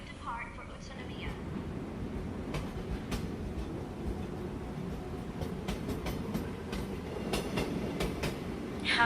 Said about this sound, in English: The train will soon depart for Utsunomiya.